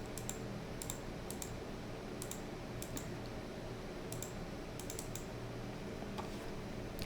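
Rapid bursts of keystrokes on a computer keyboard, clicking in short clusters during Photoshop work over a steady low room hum, with no talking.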